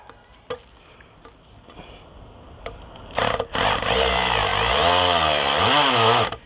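A loud hammer drill kicks in after a few quiet clicks, whining steadily for several seconds while drilling a pilot hole for a non-penetrating roof mount, its pitch wavering as it bites into material.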